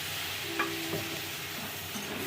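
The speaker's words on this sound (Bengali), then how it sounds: "আলুটা মশলার সঙ্গে ভালো করে ভেজে নেবো" Potatoes fry with spice masala in a pan, giving a soft, steady sizzle and occasional stirring scrapes, heard alone.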